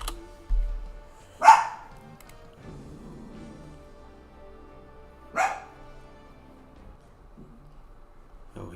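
Dogs give two separate sharp barks several seconds apart, fairly loud and close, with a low shuffle and quiet pauses between them.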